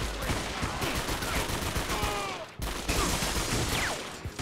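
Dense, loud gunfire in the shooter game 50 Cent: Bulletproof, rapid overlapping shots in bursts with a brief gap mid-way before the volley resumes.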